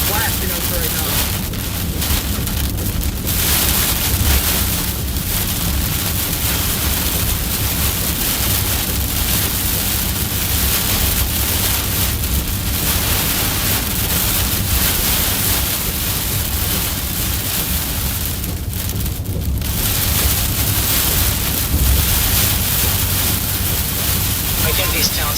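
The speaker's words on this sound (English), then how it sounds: "very gusty right here. Our current target cell currently blasting us right now." Strong, gusty wind from a storm cell during a southeastern tornado-risk chase, buffeting the microphone in a steady broadband roar for the whole stretch, with brief lulls and renewed blasts.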